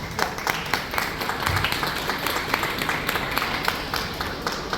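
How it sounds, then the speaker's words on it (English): An audience at a chef's masterclass at IKEA Hyderabad gives a round of applause, with dense, continuous clapping filling the room at steady loudness throughout. "A big round of applause, please"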